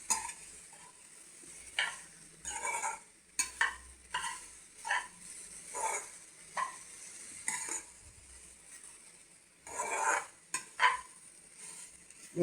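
Chopped green chillies and okra being sautéed in a pan, heard as irregular scraping and stirring strokes against the metal over a faint, quiet sizzle, with short pauses between the movements.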